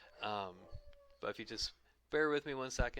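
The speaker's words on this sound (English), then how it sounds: "sorry if you hear my dogs in the background right now" Pet dogs howling and whimpering in the background of a home, drawn-out wavering howls under and between a person talking nearby.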